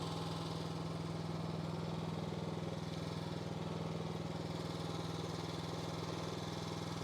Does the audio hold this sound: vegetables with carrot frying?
no